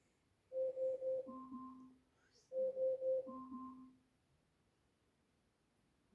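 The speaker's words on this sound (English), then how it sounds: "It's the sound of a timer." An Alexa timer alarm chimes indoors, two repeated bursts of a short rhythmic tone pattern, each a few quick beeps followed by a lower note, fairly quiet against a low background hum.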